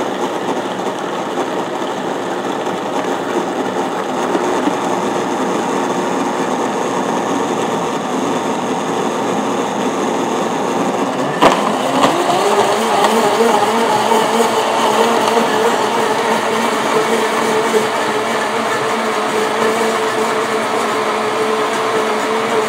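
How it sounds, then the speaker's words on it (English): A kitchen blender runs on low speed blending a French silk pie filling, a steady motor whir that shifts slightly in pitch midway as the load changes, continuous and fairly loud with no talking. "you're gonna turn your blender on low"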